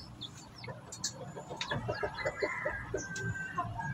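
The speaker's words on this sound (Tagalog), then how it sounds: "Ayan yung ating rooster." Chickens and a rooster on a farm cluck in a steady run of short, close calls, with brief higher squawks over faint background noise.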